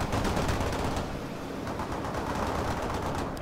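Sustained rapid gunfire from a World in Conflict battle (Soviet Assault campaign), dense overlapping bursts and explosions forming a loud, continuous wall of combat noise with no speech.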